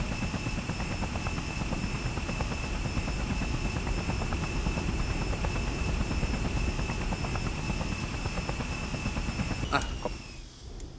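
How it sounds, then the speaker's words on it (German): A helicopter in the video game Just Cause whirs in a loud steady rotor drone with a high whine, continuous for about ten seconds before cutting off abruptly near the end, with no talking over it. "Ich steige nur in den einen Hubschrauber ein."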